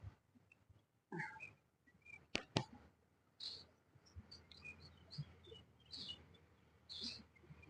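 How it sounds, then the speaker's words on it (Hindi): Faint, scattered bird chirps and short high calls from trees behind a library building in Bahawalpur, with a few sharp clicks and rustles nearby in an otherwise quiet setting. "दरख्तों पर से चिड़ियों की चहचहाने की आवाज आ रही है"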